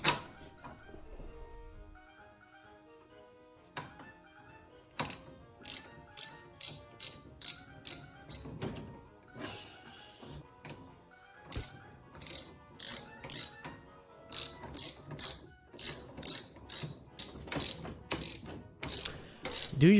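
Ratchet wrench clicking while tightening a bolt on a Datsun 280Z's billet front suspension, close and loud, in repeated bursts of quick clicks separated by short pauses, with clanks of metal parts and a hum of shop noise underneath.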